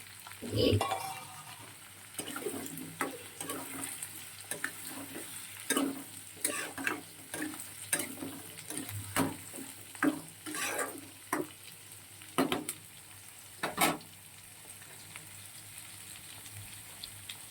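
Potatoes fry in a pan as they are stirred, with a steady low sizzle broken by a run of sharp scraping clatters from the spoon or spatula striking the pan, repeated every second or so at close range.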